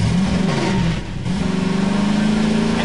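A car driven in Garry's Mod, towing a bathtub on a rope, gives a steady loud engine drone that dips briefly and then keeps revving, close and alone, with no talk.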